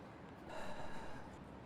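An unconscious person breathes in a single close, airy inhale and exhale, a soft snorting gasp heard alone in a quiet space.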